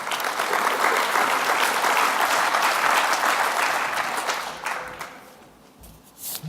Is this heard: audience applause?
yes